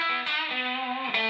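Sustained electric guitar chord with overdriven grit, ringing out loud and steady with a brief pick attack near the end.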